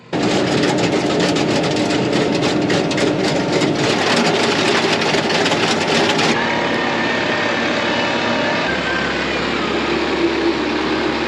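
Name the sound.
tractor engine running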